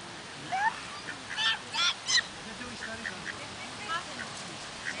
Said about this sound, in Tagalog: Domesticated na yung mga pato eh.